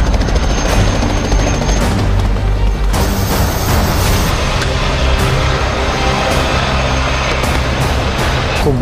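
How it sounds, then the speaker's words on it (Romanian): Helicopter hovering over a staged attack on a cooking-competition set, with gunfire fired left and right as people rappel down: a loud, continuous rotor roar with repeated sharp shots and bangs throughout. "Coborau un rapel din elicopter, trăgeau în stânga, trăgeau în dreapta"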